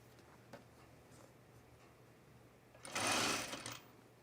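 A sewing machine runs a short back stitch on a blouse seam, one brief, close burst of stitching lasting under a second after quiet ticks and handling.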